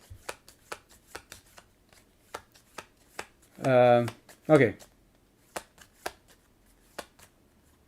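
A deck of game cards is shuffled during a solo FrostHaven board game session, with a run of quick, crisp riffling flutters and scattered card taps close by, while a voice briefly speaks.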